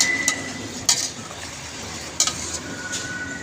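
Chicken necks sautéing in a pan for adobo, with a steady sizzling hiss and a few sharp metallic scrapes and clinks of a utensil against the pan.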